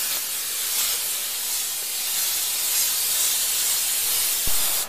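A continuous, even hiss of canola oil sprayed from an aerosol can inside a drum smoker runs for several seconds without pause, close and fairly loud.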